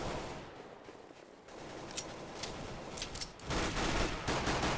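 Pistol shots ring out in a CS:GO match, a few sharp cracks spaced irregularly over dense game noise that swells louder toward the end.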